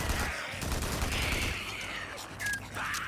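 SMP-9 submachine gun firing in a Horde Assault video game match, a dense continuous burst of rapid gunfire with overlapping game effects, loud and steady for a few seconds.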